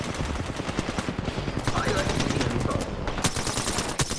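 Automatic gunfire rattles in an Apex Legends match: loud, rapid bursts of close shots run almost without a break, with more distant shots mixed in.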